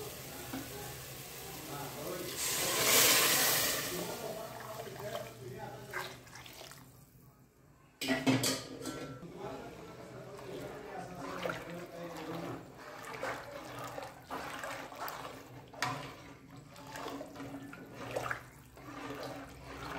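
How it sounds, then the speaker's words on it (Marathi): Heated water is poured into cooking masala for a mackerel (bangda) curry, giving a short rushing splash and hiss that rises briefly then settles into a faint, low bubbling; quiet overall, with occasional voices nearby. "आता यामध्ये मी गरम केलेलं पाणी घालणार आहे."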